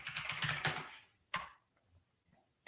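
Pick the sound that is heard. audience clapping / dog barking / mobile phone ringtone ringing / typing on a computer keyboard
typing on a computer keyboard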